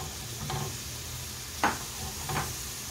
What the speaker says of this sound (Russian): обжариваем на сковороде лук до золотистого цвета и следом морковочку туда же